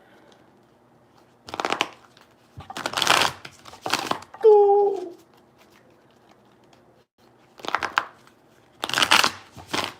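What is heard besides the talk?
shuffling tarot cards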